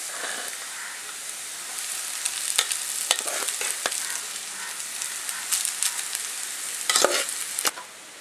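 Cooked rice and fried vegetables are stirred in a hot pan for fried rice, giving a steady sizzle broken by sharp scraping knocks of the spatula, close and without talk.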